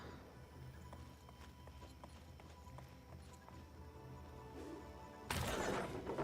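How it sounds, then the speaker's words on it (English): Horse hooves in Disney Dreamlight Valley, a light rhythmic clip-clop trotting along softly before a sudden loud burst of noise at the end. "Now I have the Kiki horse"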